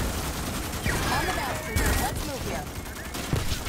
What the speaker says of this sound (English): Oh, I'm literally watching them shoot.